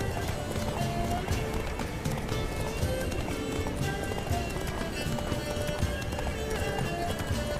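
Horse galloping in The Witcher 3 video game, a steady stream of clip-clop hoofbeats at a run with occasional whinnies, loud and continuous over a dense game soundscape, with some talk mixed in.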